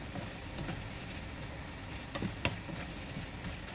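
Banana blossom fries crackle and sizzle softly in hot oil, a quiet steady frying hiss with a few sharper pops.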